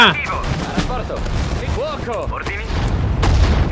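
Battlefield gunfire and explosions from the World War II strategy game Sudden Strike 4, set in the African desert, rumbling steadily throughout with repeated bursts and booms, mixed with sweeping in-game effects and a voice talking over the din.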